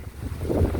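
Wind gusts roar across the microphone outdoors at a homestead beside a chicken coop and garden, a loud, rough rush with no voices.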